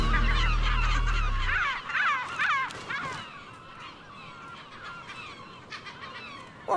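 Gulls squawking in a city, a dense run of loud, harsh calls overlapping for the first few seconds, then thinning into scattered fainter squawks over a low background rumble.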